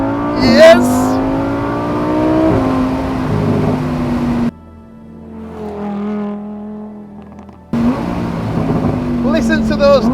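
Lamborghini Huracan V10 with a race exhaust revs loudly and downshifts, with sharp blips and a brief dip to a quieter idle mid-way before the engine roars back up close by, while a person exclaims over it.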